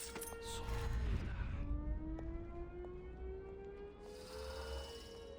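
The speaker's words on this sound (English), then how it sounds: "Sounds like an alarm." A rising and falling electronic alarm siren in the video game Dishonored wails at moderate volume over a low rumbling background, sustained throughout.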